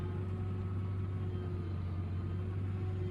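A tractor pulling a seed drill at planting time runs with a steady low engine rumble and hum, even and continuous from a cab-side position, with no distinct rise in revs.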